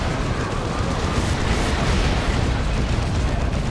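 Continuous dense rumbling booms of D-cannon artillery fire in Dawn of War 2, a thick roar with no pauses or talk.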